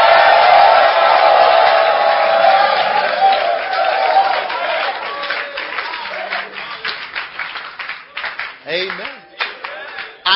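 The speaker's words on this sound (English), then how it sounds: "Give the Lord a shout and a clap of hands." A church congregation in Northampton, UK shouts and claps hands, starting as a loud, dense wall of cheering and applause that gradually thins into scattered claps and voices.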